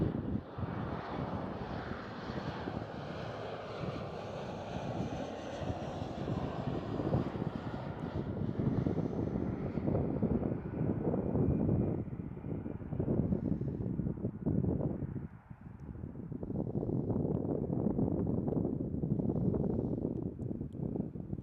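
KLM Cityhopper Embraer E175 landing at Amsterdam Schiphol, its jet engines whining and roaring over wind buffeting, swelling then easing as it floats and touches down, with a brief dip before the rumble returns.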